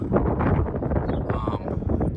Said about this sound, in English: Sorry if it is very windy out.